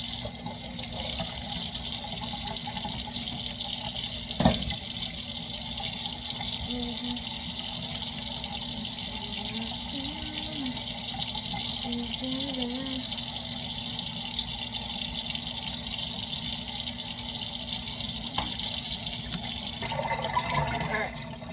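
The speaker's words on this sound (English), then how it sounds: "Alright, I got my pot of water." Steady rushing of tap water filling a cooking pot, continuous and fairly loud, with a faint clunk partway through and no talking.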